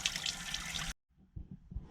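Cool running water splashes steadily while someone washes their face outdoors, then cuts off abruptly into near silence with a few soft drips and wet handling noises.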